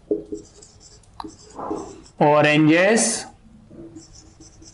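Pen writing on paper in short scratchy strokes, close by, partly under a person speaking.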